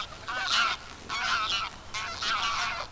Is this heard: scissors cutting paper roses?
no